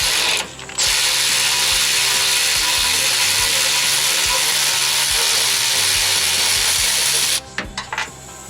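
A ratchet clicks in quick repeated strokes, close and clear, backing out 15 mm bolts from the transmission cross member of a Chevy Express during a 6L90E swap, then stops abruptly with a few loose clinks.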